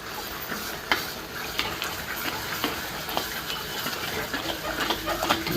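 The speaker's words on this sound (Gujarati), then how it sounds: "આને બરાબર હલાવી દો." A spoon stirs green chickpeas with tomato paste in a hot pan for a Gujarati chickpea curry, scraping and clinking steadily over a constant sizzle, close and fairly loud with no talking.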